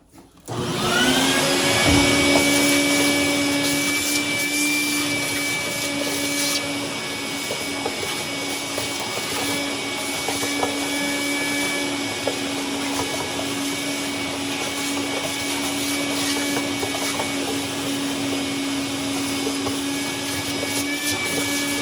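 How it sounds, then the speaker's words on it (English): A vacuum cleaner starts up and runs continuously with a loud, steady whine and rushing suction, close by, sucking up gunk from a leaking washing machine. "That's the wrong vacuum. Let's get the right one. And we'll suck up that gook"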